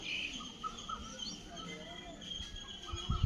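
Constant high-pitched chirping fills the background, a steady insect-like trill with scattered small calls, fairly faint and distant, with a few low thumps near the end.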